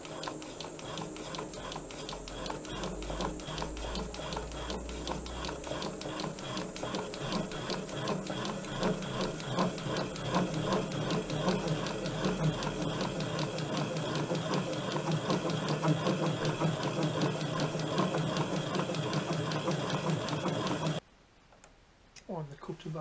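A boring cutter on a lathe-like setup cuts a thread in a Norton motorcycle exhaust port, producing a continuous rapid mechanical ticking and whirring that holds steady and close before stopping abruptly near the end.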